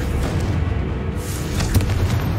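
Fire spell explosion cast in Hogwarts Legacy, a deep booming burst that rumbles steadily for a couple of seconds with a sharper crack near the end, heavy and close.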